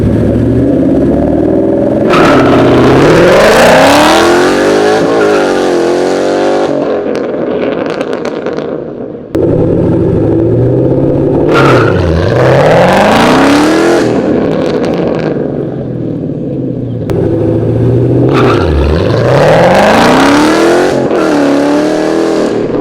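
A 2014 Ford Mustang launches hard and accelerates in three loud, close pulls, the engine rising and falling through gears with each run and a brief lull between them.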